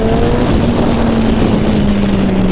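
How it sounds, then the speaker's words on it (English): A turbocharged Suzuki Hayabusa motorcycle runs hard in a drag race, producing a loud, steady engine drone with a whistling turbo tone that drifts slightly lower in pitch throughout. "All the turbo noises."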